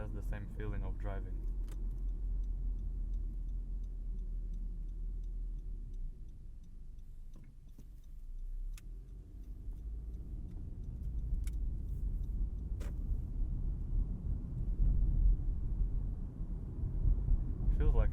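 A 2016 Honda Civic drives along, heard from inside the cabin as a continuous low engine and road rumble that swells slightly toward the end, with faint clicks and ticks scattered throughout.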